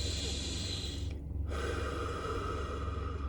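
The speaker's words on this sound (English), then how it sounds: "just sit and just take conscious deep breaths" Slow, deep breathing during seated meditation, a close, soft inhale followed by a brief pause and a long, airy exhale, over a steady low background hum with no talking.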